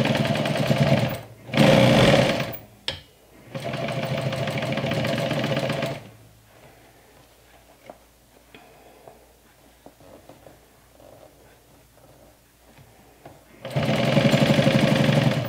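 Sewing machine stitching the folded seam of a fabric bag an eighth of an inch from the edge: loud, close bursts of rapid whirring, stopping and starting, with a long quiet gap of faint handling before a final run.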